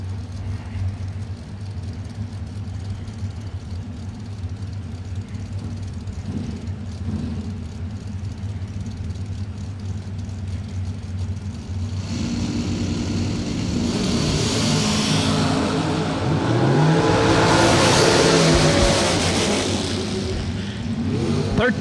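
Junior dragster racing at a bracket drag strip, a small engine droning steadily at a distance before a louder, brighter pass builds and roars past in the second half, with no talk.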